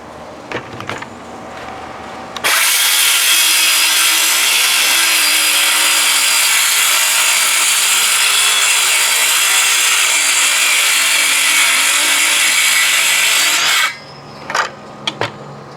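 A cordless saw on a Dewalt 4 amp battery cuts through 3/4 inch treated plywood in one long, loud, steady buzzing run of about eleven seconds, with brief handling clatter before and after.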